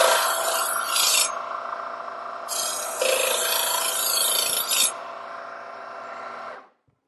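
A KitchenIQ 50353 Angle Adjust electric knife sharpener runs with a steady motor whine while a knife is pulled through its fine slot, producing two longer bursts of bright grinding before the motor winds down and stops near the end.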